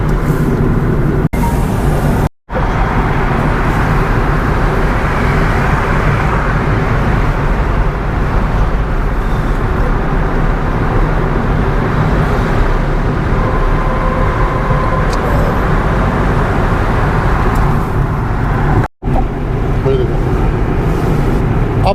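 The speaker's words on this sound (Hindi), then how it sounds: "देखिए 70 की स्पीड में चल रही है हमारी गाड़ी" A Maruti Ertiga with a 1500 cc engine runs on CNG down a highway at about 70 km/h. A steady, loud road and engine rumble continues throughout, with two brief dropouts.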